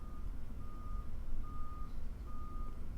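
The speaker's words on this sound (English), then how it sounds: "I don't know what they're doing outside, but I can hear the beeping." Repeated electronic reversing beeps, evenly spaced and faint, from a vehicle some distance away over a low rumbling engine background, in the farming video game Farming Simulator 15.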